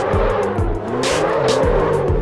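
Car drifting sideways in Assetto Corsa, loud engine revving in rising and falling bursts with repeated tyre squeals and skids, close and continuous without speech.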